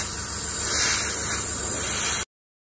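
Aerosol can spraying Mr. Finishing Surfacer 1500 Grey primer onto scale model ship parts, one continuous close hiss lasting about two seconds before stopping abruptly.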